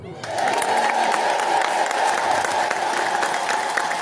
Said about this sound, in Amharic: እስቲ እሷ እንደምታየው አድርጋችሁ እልል በሉ።